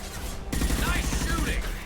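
Rapid gunfire in the video game Mass Effect 2, a burst of repeated shots in quick rhythm that kicks in abruptly partway through over a steady background of game noise.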